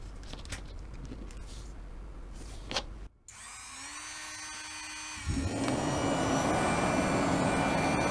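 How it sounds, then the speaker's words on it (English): A handheld rotary tool spins up with a rising whine after a few quiet taps, then bites into a walnut shell as it carves out the inside, a harsh steady grinding buzz filling the last seconds. "use a rotary tool to slowly carve out the inside and refine the shape"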